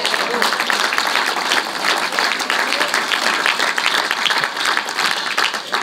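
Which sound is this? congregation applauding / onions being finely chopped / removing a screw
congregation applauding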